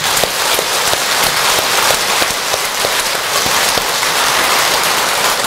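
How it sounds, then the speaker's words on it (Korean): Dense, steady applause from a large congregation at a Buddhist dharma assembly, a continuous even roar of many hands clapping that holds at full strength throughout without letting up. "크게 박수 한번 칩시다."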